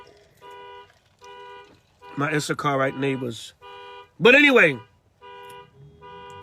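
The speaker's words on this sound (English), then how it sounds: "Hopefully Issachar will come and turn the alarm off soon." A car alarm outside sounds in repeated evenly spaced electronic tonal bursts with short gaps between them, while someone talks over part of it.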